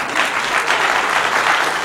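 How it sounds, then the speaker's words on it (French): An audience applauds steadily as people slowly descend a staircase, a dense, even wash of close clapping with no pauses. "parce que pendant qu'on descend lentement, vous applaudissez."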